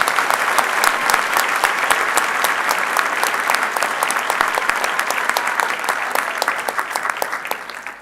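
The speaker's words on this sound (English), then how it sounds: "So, ladies and gentlemen, I really want to ask you once again to give a huge round of applause to Dr. Morgan." Loud, sustained applause from a ceremony audience at a medical colleges event, dense steady clapping throughout that tapers slightly toward the end.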